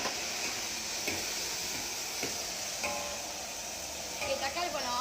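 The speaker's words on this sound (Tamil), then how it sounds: "ஓகே, இப்போ கொஞ்சோண்டு இஞ்சி பூண்டு அரைச்சி போட்டுக்கோங்க" Ginger garlic paste hits a hot pan and sizzles in a steady, close hiss of frying, with a few stirring scrapes, while someone speaks Tamil over the cooking.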